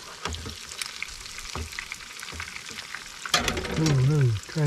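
Food sizzling and crackling in a frying pan, steady frying under scraping and tapping as the pieces are flipped, ending with a brief voice rising over the sizzle.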